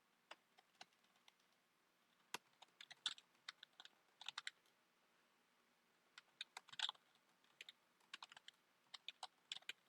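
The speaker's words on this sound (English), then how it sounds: "I'm just typing away." Quiet, close clicks of typing on a computer keyboard, irregular bursts of keystrokes separated by short pauses, alone against near silence.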